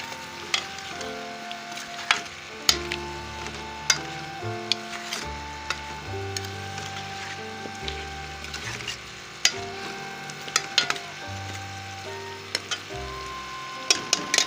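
Half a kilo of potatoes and half a kilo of green beans (moongre) are stir-fried in a pot. A steady sizzle is punctuated by frequent spoon clacks and scrapes at an uneven rhythm over about fifteen seconds.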